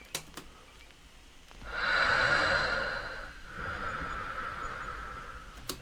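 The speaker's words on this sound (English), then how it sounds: "just people breathing" Several people breathing heavily in a sampled recording, a long audible exhale swelling in the middle followed by a softer second breath, close and unaccompanied, with faint clicks at the start and end.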